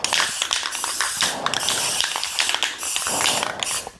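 Dark blue spray paint hissing from an aerosol can onto a real spider web, in repeated uneven bursts of loud, close spraying with short gaps between them.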